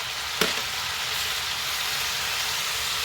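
Frozen chopped tomatoes go into a hot pan for shrimp in tomato sauce, with a soft thump and then a continuous, even hissing sizzle; no talking.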